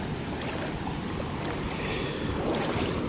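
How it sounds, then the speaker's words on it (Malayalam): Sea waves surge against an island shore in Lakshadweep, a steady broad rush of water and wind that stays close and fairly loud throughout, with no voices. "തൊട്ടടുത്ത് തന്നെ തിരമാല അടിച്ച് കയറുന്നുണ്ട്"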